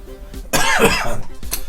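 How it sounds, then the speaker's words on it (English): A single harsh, dry cough bursts out close to the microphone from an adult man with a lingering dry throat, preceded by a short breath. "Obviously, I'm coughing"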